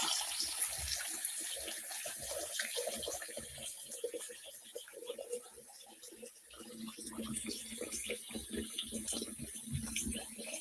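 A clean kitchen sink filling from the tap, with a steady hiss of running water throughout and people talking faintly beneath it.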